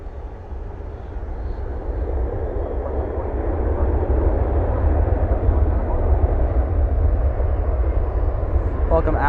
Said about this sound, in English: We also have the infamous Qatar flight 730 headed back to Doha, currently making its way up north